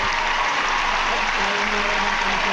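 Sustained applause from a big crowd at an ice skating gala in Warsaw: a thick, even wash of clapping filling the arena, with a commentator talking over it.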